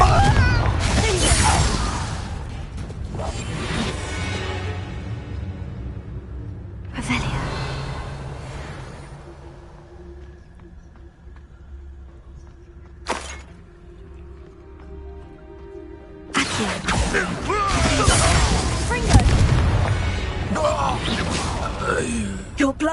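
Harry Potter game combat with Confringo fire spell blasts: sharp bursts and crashes come at the start, midway and near the end, separated by quieter stretches, with a voice speaking over parts of it.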